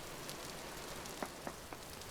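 Rain falls steadily in the video game Vintage Story while the player mines, a constant soft hiss with three faint taps.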